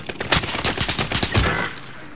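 Rapid bursts of video game gunfire from assault rifles, loud and dense, crackling in quick overlapping volleys during a firefight, then fading toward the end.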